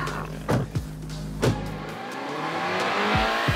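A VW Golf GTI on standard suspension and tyres pulls hard onto a fast lap of a handling circuit, its engine note rising steadily with a few sharp transients early on, close and loud throughout.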